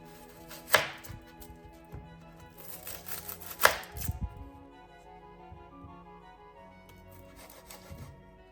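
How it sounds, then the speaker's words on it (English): Two onions being cut in half with a knife on a cutting board, giving a couple of sharp, close chops followed by softer slicing and handling sounds, with no talking. "Take 2 onions and cut them in half"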